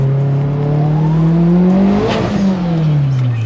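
A Mitsubishi Evo with a new, cheap aftermarket exhaust revs hard up close, its loud, raspy drone climbing through one sustained rev, peaking sharply past the midpoint and falling away.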